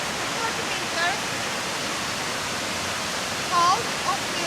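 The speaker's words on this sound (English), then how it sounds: "it's one of the two biggest waterfalls on Halleberg and Hunneberg" A large waterfall on Halleberg in Sweden, some 26 to 30 meters tall, pours in a steady, broad roar heard from nearby, with faint bird chirps rising above the constant rush.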